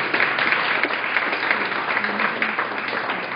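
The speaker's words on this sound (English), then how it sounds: "please give everybody a round of applause" Steady applause from a panel discussion audience fills the whole stretch, a dense wash of clapping with some faint murmuring mixed in.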